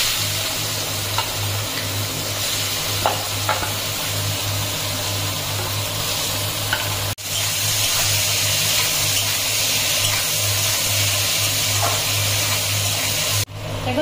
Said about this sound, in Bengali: আর এখন দিয়ে দেবো পেঁয়াজ কুচি।